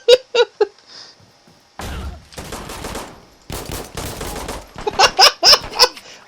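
Pistol fire in the tactical shooter game Insurgency Sandstorm: sharp single shots in irregular bursts, some near and loud, mixed with thuds and clatter, with quiet pauses between volleys.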